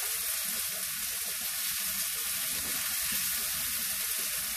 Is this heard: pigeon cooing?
no